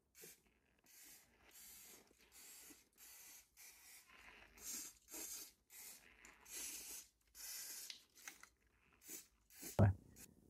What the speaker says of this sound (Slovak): To je ochranný sprej.